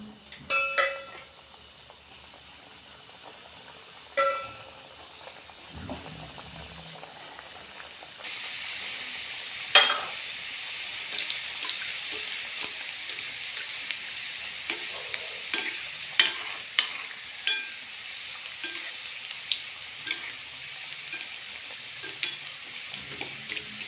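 Momos deep-fry in hot oil, a steady bright sizzle and hiss that swells louder once they drop in, with occasional sharp pops and spatters over a long continuous fry.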